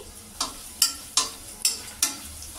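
Black pepper, one star anise and cloves fry in oil for a meal maker (soya chunk) biryani, with five evenly spaced stirring scrapes over a faint, steady sizzle.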